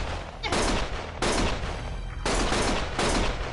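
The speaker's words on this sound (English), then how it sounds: "Stop shooting!" Rapid gunfire in Lost Judgment, three loud sustained bursts in quick succession with brief gaps between them.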